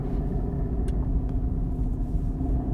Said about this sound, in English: Put the car through some turns a little bit quicker now.